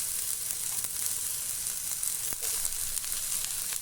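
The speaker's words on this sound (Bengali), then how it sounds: "তো এখানে আমি দিয়ে দিব পেঁয়াজ কুচিটা" Chopped onion sizzling in hot white oil in a wok, a loud, continuous hiss and crackle close up, with a few faint clinks and no voices.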